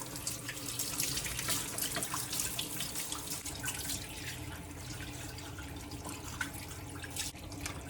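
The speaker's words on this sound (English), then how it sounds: "let's give that a really nice clean with some warm water" Warm tap water runs steadily from a faucet into a sink while a filter top is rinsed clean, a continuous splashing gush with small clatters of the part being handled, close and alone with no talk.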